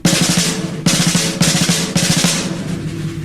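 Played up to speed on a drum, five-stroke rolls come as quick buzzing bursts of tightly packed strokes, repeated several times with a ringing tail, loud and near with no voices.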